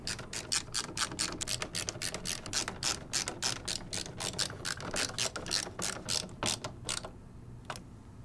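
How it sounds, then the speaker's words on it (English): Thumb screws being turned to secure a CPU water block onto a processor give a rapid, even run of close ratcheting clicks that stops near the end, followed by one last click. "Secure the CPU block to the processor using the provided thumb screws."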